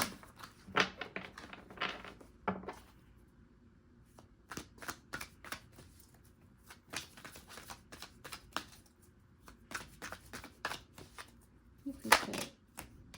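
Repeated crisp riffling bursts of tarot cards being shuffled by hand, close up, with short pauses between shuffles and a louder flurry near the end.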